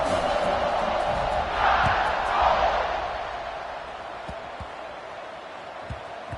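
A large stadium crowd at a Texas vs Alabama football game roars steadily in a broad wash of noise, swelling briefly louder before settling into a sustained background din.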